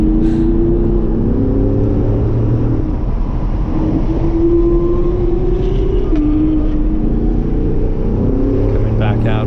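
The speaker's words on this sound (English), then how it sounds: "Love the sound of that 3RS in front of us." Porsche 911 GT3 RS engine on a race track heard from a following car, a loud sustained drone with rising and falling harmonic pitch sweeps as the car accelerates, overlaid by engine noise from the car behind.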